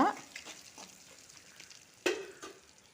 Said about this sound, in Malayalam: ബീഫ് ഇതിലോട്ട് ചേർക്കുക. ഇനി നന്നായി ഇളക്കി കൊടുക്കുക.